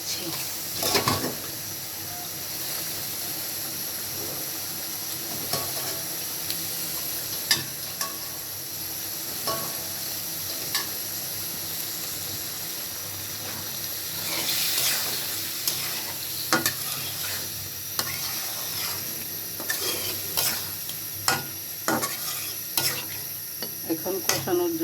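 Snakehead fish pieces sizzle in cooked-down spice paste in a pan, a steady frying hiss with intermittent scraping stirs and a few clinks of utensils against cookware.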